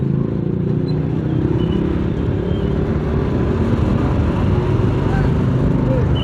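A morning traffic jam on the road toward Pamulang, Jakarta, makes a constant low rumble of idling and creeping engines, a dense, even drone with no distinct passing vehicles.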